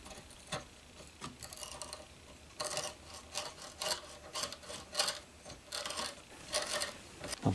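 A reamer enlarging a hole in wood scrapes and rasps in irregular bursts, with grinding strokes and small clicks, fairly quiet and close.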